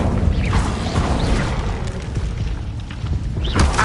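An Incendio fire spell in the Hogwarts Legacy game on PS5, a loud, steady roaring whoosh with booming low rumble and a few crackling bursts, alone without any talk.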